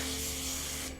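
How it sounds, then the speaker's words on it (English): Hand spray bottle misting water in steady continuous hissy spritzes, close and fairly loud, lasting almost the whole moment before cutting off sharply, with a faint electronic hum underneath. "Maybe I shouldn't be spraying water so close to my electronics"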